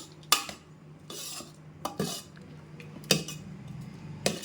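Cooked lentils for tomato dal sambar stirred inside an opened pressure cooker: sharp metal spoon clinks against the pot at irregular intervals between short scraping strokes, close and fairly quiet, no talking.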